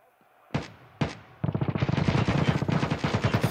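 Gunfire in the video game Escape from Tarkov Arena: two single loud shots, then a sustained rapid automatic burst of close, punchy reports lasting about two seconds.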